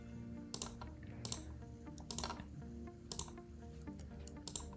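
Sharp computer mouse clicks come one after another at an irregular pace, close and crisp over a faint low hum, with no voices.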